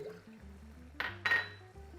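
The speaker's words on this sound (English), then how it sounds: "You must pour some water in there." Water poured into an almost empty glass tomato sauce jar, two short close splashing bursts over a faint background hum, with no speech.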